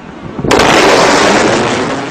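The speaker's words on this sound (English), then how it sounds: "Aircraft actually usually produce two booms." A loud, sudden aircraft sonic boom bursts in and rolls on as a sustained broadband rumble, very close and forceful, with no voices.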